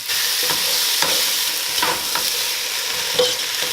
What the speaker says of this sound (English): Cooking the onions with the bones is going to add a lot of flavor